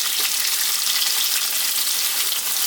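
Chopped onions fry in a pan over fairly lively heat while making lamb and potato curry, giving a loud, steady, dense sizzle throughout with no pauses and no voices.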